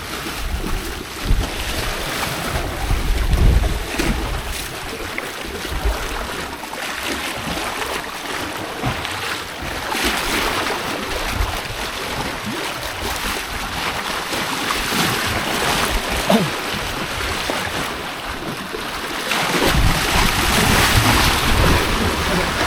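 Strong sea waves roll in at a beach in Bantayan, a broad churning wash mixed with gusting wind buffeting the microphone, swelling louder toward the end.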